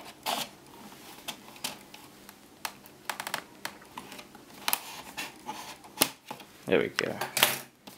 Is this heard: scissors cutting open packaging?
yes